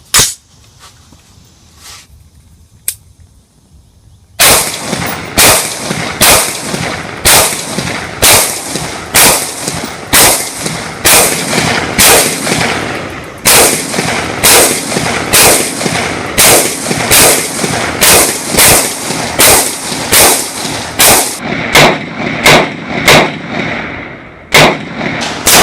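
A POF USA Puritan rifle fires at an outdoor range, about twenty loud, sharp shots in a fairly even cadence of roughly one per second, each followed by a short echoing tail, after a few quiet handling clicks.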